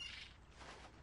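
Game bird chirping in the adventure game The Longest Journey, a quiet, brief burst of high tweets at the start fading into soft ambient texture, with no talking.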